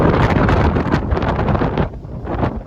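Strong cyclone wind buffets the microphone in loud, roaring gusts that ease slightly near the end.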